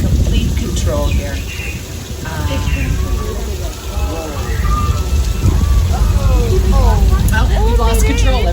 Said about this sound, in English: you all can just sit back, relax, enjoy this rainstorm